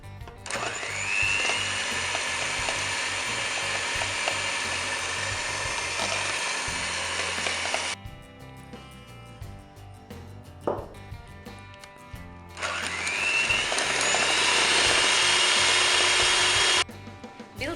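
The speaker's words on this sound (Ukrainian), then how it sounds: "Тепер збиваємо білки. Починаємо збивати на низьких оборотах міксера." Electric hand mixer whipping egg whites for a cake dessert, a loud steady high whir running for about eight seconds, stopping briefly, then starting again for several more seconds; no talk.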